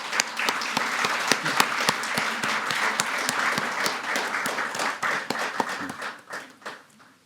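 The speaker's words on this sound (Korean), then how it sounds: "다시 한번 감사의 박수를 드리도록 하겠습니다" A church congregation applauds during a Sunday worship service, sustained dense clapping that carries steadily and then thins out and fades toward the end.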